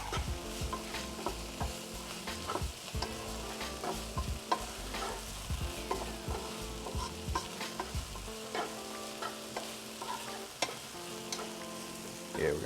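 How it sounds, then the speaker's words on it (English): Liquid boils steadily in a pan, a continuous close bubbling and sizzling with occasional sharp clicks and clinks over a faint steady hum, with no talking. "Yeah, we got some boil going."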